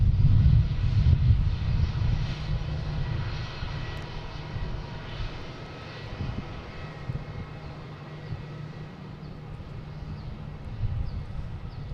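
Jet airliner arriving at Boston Logan International Airport, a steady low engine roar heard from a distance, loudest at the start and slowly easing.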